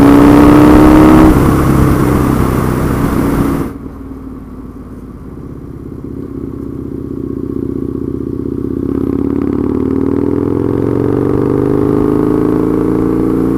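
Husqvarna Nuda 900R motorcycle engine on a test ride, loud and close, with a strong revving roar at first that drops away, then settles into a steady, rising drone.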